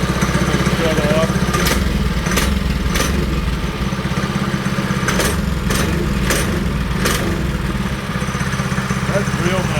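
A Coleman RSV 200 engine fitted with a high-compression head runs steadily and close, its low, even drone holding throughout, with a few sharp clicks or rattles breaking in.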